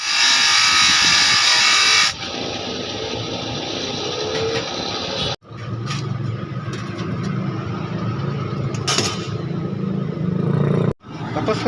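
Someone cuts a large saw blade into three pieces, a loud, close, gritty grinding drone running steadily with two abrupt cut-offs where the tool stops and restarts.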